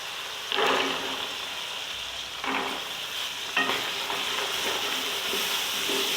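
Chickpeas drop into a pan of frying masala for chana pulao, setting off a loud, steady sizzle with sharper hissing bursts as each batch goes in.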